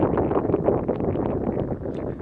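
Strong wind blows outdoors at a drone pre-flight check, buffeting the microphone as a steady, close, low rumbling roar for the whole moment, with no talk.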